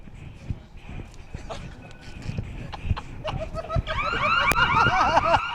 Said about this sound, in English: coming back to you after this alarm shuts off